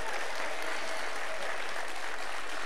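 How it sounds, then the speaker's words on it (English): An audience clapping hands at a faith event, a dense, steady wash of applause from many people sustained throughout at a loud level. "come on, keep clapping."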